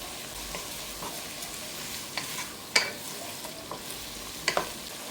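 Chopped onions and other vegetables sautéing in a pan for a beef stew, a soft steady sizzle with occasional sharp clicks and scrapes of stirring, fairly quiet and without talk.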